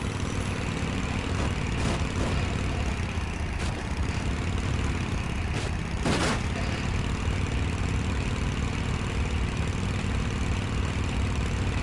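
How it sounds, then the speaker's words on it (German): Motorcycle engine in the game Tomb Raider Legend, a steady, unbroken engine drone at moderate loudness with a few brief whooshing bursts, running on without speech. "Ja, ein ganz tolles Motorrad."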